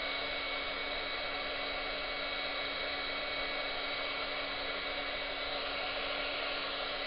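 A heat tool blows hot air onto Foamiran craft foam for a 3D wedding card, giving a constant, fairly quiet whirring hiss that holds steady throughout with no talking.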